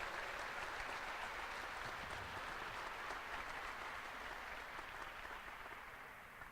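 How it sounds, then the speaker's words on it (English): A crowd at a university recreation center groundbreaking ceremony gives a round of applause, steady even clapping that holds for several seconds and thins slightly toward the end. "a big round of applause for all our people in administrative affairs and all that got us here today"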